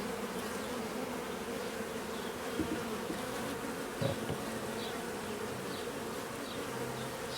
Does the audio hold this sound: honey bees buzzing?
yes